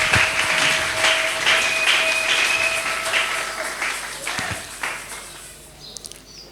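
A church congregation breaks into applause, a dense wash of clapping that carries on steadily and then tapers away, with a tone and a few taps under it.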